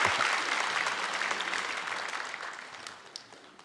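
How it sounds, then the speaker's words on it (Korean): Church congregation clapping to bless a child during a Sunday service, a broad round of applause that starts full and gradually thins and fades, with a few last scattered claps. "우리 박수로 이 아이를 축복합니다."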